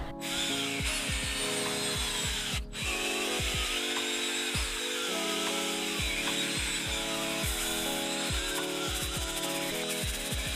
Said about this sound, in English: I'm going to agitate it with the drill brush